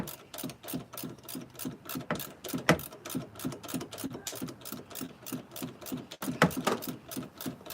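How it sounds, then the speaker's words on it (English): A torque wrench steadily ratchets a motor mount bolt on a 2003 Honda Pilot, giving rapid, evenly spaced clicks in a long run with a brief break near the end, close and moderately loud. "We'll get this torqued down to 35 foot-pounds next."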